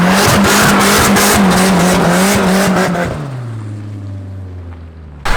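A Mazda RX-7 FD with a K-series engine swap roars at high revs with a screeching tire skid, then the engine note drops and winds down to a low idle.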